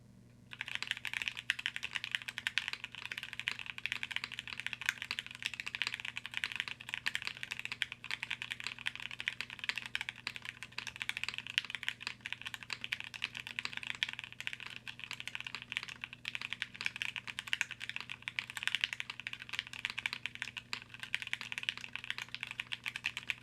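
Steady typing on a Tiger 80 mechanical keyboard in an ABS and aluminium case, a dense, even run of close, crisp keystrokes with no talking.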